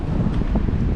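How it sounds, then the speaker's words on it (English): Wind gusts steadily across an Appalachian Trail mountain top near Gooch Mountain, with trees swaying and a faint rustle of leaves riding a low, continuous roar that buffets the microphone throughout. "It is a windy day out here."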